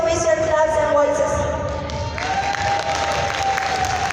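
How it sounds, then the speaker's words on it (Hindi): An audience at a company CEO's speech claps and cheers steadily throughout, a dense wash of applause with sustained tonal music or cheering running through it. "Let me know with your claps and voices."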